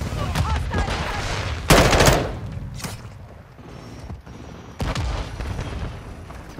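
Bursts of automatic rifle fire from an M4 in Modern Warfare 2 on the Shoot House map, with sharp loud volleys near 2 and 5 seconds amid scattered shots and mechanical clatter, alone without talk.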